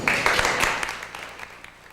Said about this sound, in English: Well-deserved applause for a special Scarborough couple.